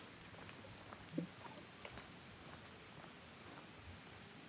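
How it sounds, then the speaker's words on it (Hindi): Heavy rain falls in dense forest near Mussoorie, a steady, soft wash of patter that runs on throughout with a few brief knocks and drips and no talk. "ये देखो बारिश बहुत ज़्यादा हो रही है"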